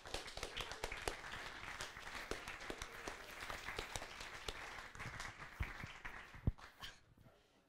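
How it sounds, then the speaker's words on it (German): Audience applause for two speakers after a talk on net neutrality and zero rating, a dense patter of many hands clapping steadily at moderate distance, tapering off near the end. "Bitte einen großen Applaus für Lea und Kathleen."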